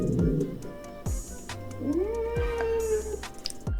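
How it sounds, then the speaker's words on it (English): An aggressive, hellish cat yowl, synthetic, rises into a drawn-out caterwaul with a sustained wavering tone, broken up by sharp clicks and thumps, loud and close with no talk. "The last one should be a cat from hell."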